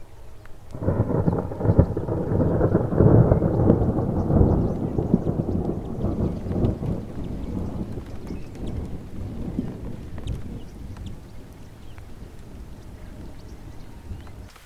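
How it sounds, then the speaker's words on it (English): Rolling thunder booms loudly at first during a rainstorm in Africa, then fades gradually while steady rain patters underneath, no one speaking. "I love the rain in Africa."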